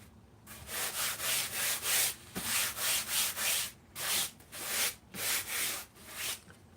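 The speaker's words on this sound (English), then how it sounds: "when you're sanding the fuzz off." Fuzz is sanded off a cut foam core by hand in steady back-and-forth strokes, about a dozen soft, close rasping passes in an even rhythm with brief gaps between them.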